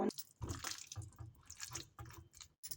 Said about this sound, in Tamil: இதில் கொஞ்சமாக தண்ணி வந்து சேர்க்குறேன்